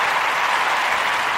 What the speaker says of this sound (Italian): applausone per Diego